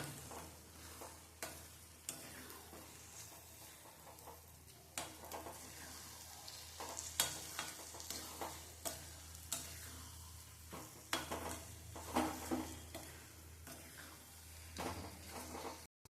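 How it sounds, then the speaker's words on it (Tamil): Drumstick flesh sautéing in a pan, a soft, fairly faint sizzle with repeated clicks and scrapes of a spoon stirring at a steady pace throughout. "இதோட சேர்த்து சதப்பகுதியை சேர்த்து வதக்கி விட்டுறலாம்."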